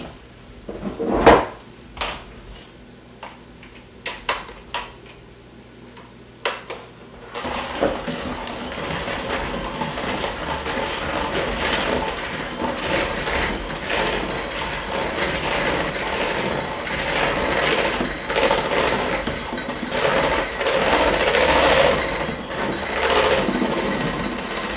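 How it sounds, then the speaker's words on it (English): Electric kitchen mixer starting up in a home kitchen while cookie dough is made, a few clicks and knocks first, then a steady whirring motor hum that runs loudly for the rest of the stretch. "Get my mixer going here."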